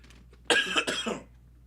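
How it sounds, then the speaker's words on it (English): A single harsh cough breaks out in a quiet room, two or three rough bursts close together, then fades back to near silence. "I apologize for the cough."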